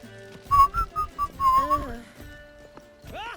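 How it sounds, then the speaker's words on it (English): A person whistles a short series of bright notes close into a microphone, then a longer sliding whistle, over quiet background sounds from The Witcher 3. "I shouldn't whistle into my microphone"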